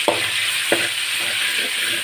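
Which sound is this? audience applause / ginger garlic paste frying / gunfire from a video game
ginger garlic paste frying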